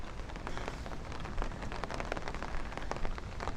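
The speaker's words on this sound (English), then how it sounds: "We still got some rain though to get through." Steady rain pours onto a Brooklyn street in Bay Ridge during a thunderstorm, a dense close hiss with scattered louder drops and splashes spattering throughout.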